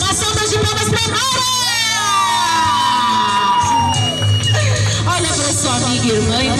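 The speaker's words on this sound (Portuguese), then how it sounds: "Uma salva de palmas para a Mara!" Guests at an anniversary party applaud and cheer loudly through the whole stretch, with whoops and shouts over the clapping and voices mixed in.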